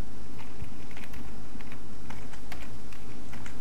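Rapid computer keyboard typing while data is entered into a Microsoft Access report, with irregular clicky keystrokes close by and no one talking.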